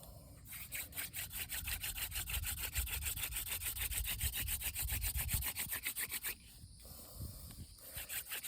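A mullein spindle spun by hand on a willow board makes a rapid back-and-forth rubbing and scraping for about six seconds. It pauses briefly, then a quieter burst of friction follows.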